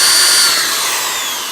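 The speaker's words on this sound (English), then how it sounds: "drill about every inch all the way down that line" A power drill with a 7/32 or quarter-inch bit bores a hole, its steady high whine loud and continuous, tapering slightly as the cut finishes, with no voices.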